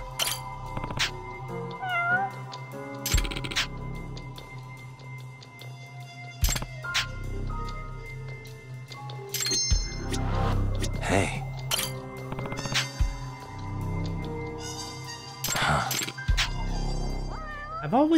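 Cat meowing in the video game Judgment, several short mews among game music and clicks, with a voice speaking in between.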